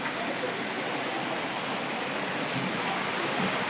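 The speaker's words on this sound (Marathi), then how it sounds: "पाऊस चालू आहे" Rain falls during sunshine, a soft, even hiss of drops that runs steadily and fairly faint throughout, with no voices.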